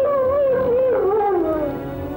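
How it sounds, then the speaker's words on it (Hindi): A dog's drawn-out howl, wavering and sliding downward in pitch, carries on steadily for a couple of seconds in a dark, eerie night-time setting. "फिर उसी कुत्ते के रोने की आवाज।"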